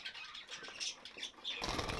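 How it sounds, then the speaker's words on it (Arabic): Young hybrid finches released from an aviary at a bird reserve burst into flight, a quiet run of quick, fluttering wingbeats ending in a louder rush of flapping. "اليوم اخوتي جا وقت اطلاق العصافير ديالي"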